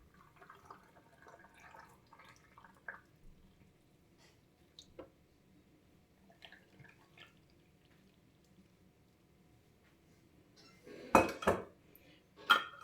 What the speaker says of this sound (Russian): Просто сверху кладем крышечки и отправляем стерилизоваться после закипания 15-20 минут.